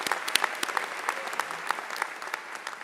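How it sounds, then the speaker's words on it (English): Sustained audience applause at a School of Pharmacy doctoral hooding ceremony, dense and steady with occasional sharper claps standing out near the front, with no voices over it. "Let's give them another round of applause."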